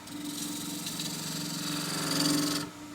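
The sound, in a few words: spindle gouge cutting endgrain wood bowl on a lathe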